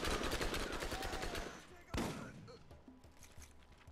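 Automatic gunfire in the shooter game Borderlands: a dense, rapid burst of shots followed by one louder single shot, then quieter clatter, with voices in the background.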